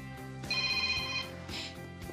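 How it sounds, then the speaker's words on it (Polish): A telephone rings in a Polish TV drama scene. The shrill electronic ring comes through clearly for under a second, then again more faintly, over steady background music with no talking. "Odczekaj parę sygnałów, żeby nie było, że cały czas czekasz na jego telefon."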